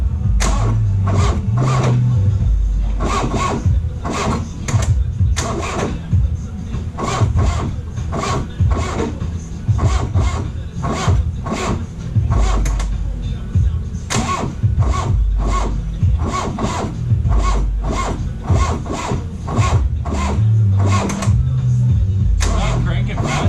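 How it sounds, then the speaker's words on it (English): A 1982 VW Rabbit 1.6-litre diesel engine cranks slowly, its starter churning in a steady, laboured rhythm of about one heavy stroke per second. The sound is close and loud, running unbroken for over twenty seconds. "Not cranking fast enough."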